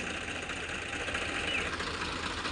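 A Farmtrac tractor sits idling close by during a tractor tug-of-war contest. Its engine gives a steady, mid-loud rumble with a faint pulsing throb and no voices over it.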